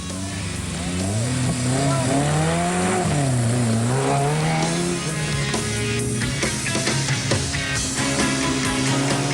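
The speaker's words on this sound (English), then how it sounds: "First away in the 80-kilometre Settler Sprint were the Class 5 vehicles with Bill Angus and Derek Weatherall" Class 5 rally vehicles pull away at the start of an 80-kilometre sprint, their engines revving loud with rising and falling pitch sweeps, the sound dense and continuous with overlapping engines throughout.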